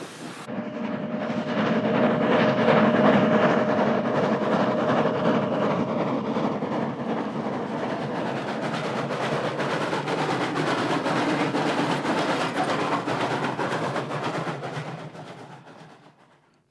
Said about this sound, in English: In tandem with the train engine, number 226, number 5 put up a grand show on the 1 kilometre bank